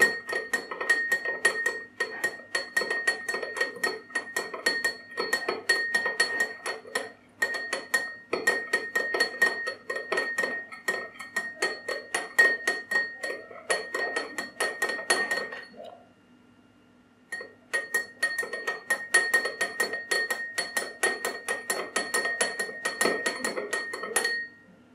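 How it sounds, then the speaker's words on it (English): A spoon stirs sugar into a glass of water, making rapid, steady metallic clinks against the glass that continue close up for about fifteen seconds, pause briefly, then resume. "the glass that I'm stirring"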